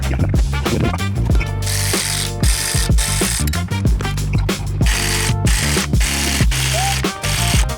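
A ratchet rapidly clicks while loosening bolts during a transmission swap on a Mercedes W204 in a parking garage, loud and close, in bursts of fast strokes with brief pauses.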